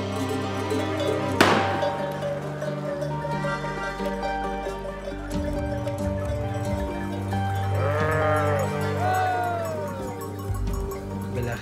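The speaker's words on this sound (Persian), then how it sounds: "یه خانواده 8 نفره هستن که با آنها 400 رأس گوسفند در حال حرکت" Sheep bleat among a flock of about 400 driven by a nomadic family migrating on foot across the Zagros mountains in Iran, scattered calls over a steady background with a sharp clatter early on.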